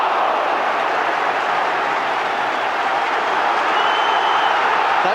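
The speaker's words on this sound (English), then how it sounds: "That's really got the crowd going." Football stadium crowd at a 1992 Liverpool v Genoa match applauding and cheering a good save, a dense, steady roar of clapping and voices filling the whole stretch without letup.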